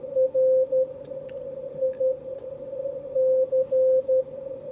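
Morse code CW signal received on a Yaesu FTdx5000MP amateur radio transceiver, a steady tone keyed in dots and dashes over a hissy band noise floor, with a second fainter station audible.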